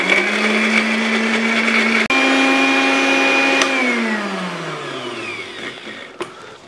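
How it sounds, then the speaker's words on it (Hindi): A kitchen blender loudly grinds biryani masala paste with oil in a steady high whine, then winds down as the motor slows toward the end. "अब इसको हम तमाम चीज़ों को दोबारा से ग्राइंड कर लेंगे।"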